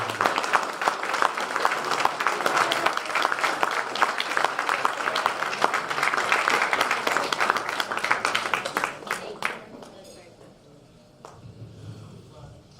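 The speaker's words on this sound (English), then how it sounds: "I want you to applaud these three right here." An audience at a 50th anniversary event applauds three honorees, with loud, dense clapping that runs steadily for about nine seconds, then thins to scattered claps and quiet room noise.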